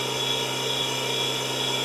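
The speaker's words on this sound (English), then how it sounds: "we're drilling the little clearance holes for the ring spanner corners" A Tormach CNC mill drills small clearance holes in a steel ring spanner, giving off a steady, even machine whine with a high-pitched tone. The whine is unbroken, with no talking.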